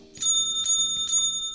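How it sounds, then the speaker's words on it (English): A service bell at the counter of a rustic camp rings three times in an even rhythm, each strike clear and close with a ringing tone that fades, over a low steady background hum. "we got a bell here. Maybe this will ring for service."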